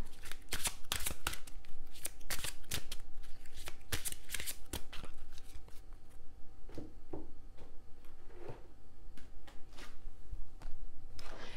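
Oracle cards are shuffled by hand for a monthly reading, producing repeated crisp riffling bursts close up, loud at first and then softer, scattered flicks toward the end, with no voices.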